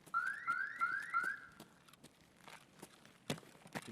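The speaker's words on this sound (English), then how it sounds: "You can hear that Kibba alarm going off." The Kiba store alarm in Escape from Tarkov sounds as a repeated rising electronic whoop, four quick cycles heard from a moderate distance, followed by footsteps and gear rustling.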